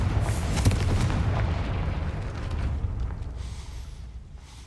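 A Confringo spell in the Hogwarts Legacy video game sets off a loud, booming blast with a sharp crackling burst up front, rolling into a rumbling tail that slowly fades over several seconds.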